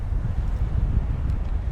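Strong wind buffets the microphone at a seaside marina, a steady low rumbling roar that fills the whole moment without a break; no voices.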